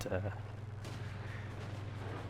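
A single tank cannon shot from a Chinese 112 heavy tank in the World of Tanks video game booms at the start, followed by a rumbling engine drone that continues underneath.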